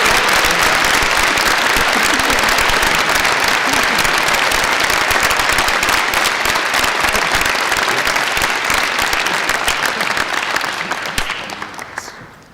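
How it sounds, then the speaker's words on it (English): Graduates applauding university staff at a Swinburne graduation ceremony, dense, loud, sustained clapping from a large crowd in a hall, fading out near the end. "Graduates, would you please join me in a round of applause for all the Swinburne staff."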